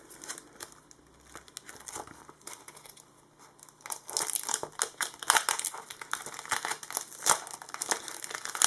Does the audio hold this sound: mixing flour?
no